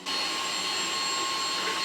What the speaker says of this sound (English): you hoover across the top and also hoover across the carpet as well